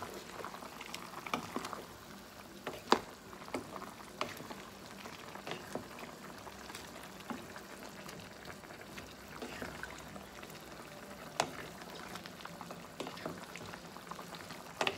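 Chicken feet adobo boils steadily in a pot, a continuous bubbling simmer with scattered pops and occasional clinks, moderately close and steady for the whole stretch, with no talking.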